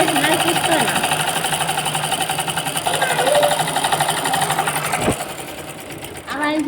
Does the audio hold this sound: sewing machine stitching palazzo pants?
yes